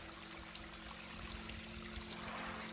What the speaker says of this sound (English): the water's really gushing down there somewhere. You can really hear it.